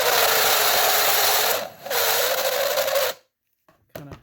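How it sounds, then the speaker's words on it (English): A power drill spins a reamer through drilled holes in metal on a Workhorse chassis, giving a loud steady whine that dips briefly, then cuts off abruptly, followed by a few light handling clicks. "So I got me a little reamer here on my drill."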